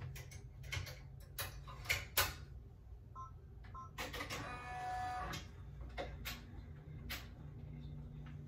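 Embroidery machine stitching the finishing outline on an in-the-hoop tooth fairy pillow, a quiet steady mechanical whir broken by sharp ticking clicks and short bursts of needle chatter.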